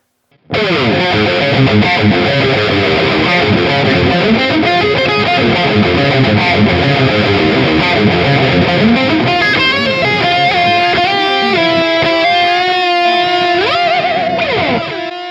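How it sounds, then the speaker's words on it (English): Distorted electric guitar through a Mooer reverse delay effect rings out continuously, its notes swelling in backwards with a washy, smeared trail, loud and alone. "Let's throw on a reverse delay here."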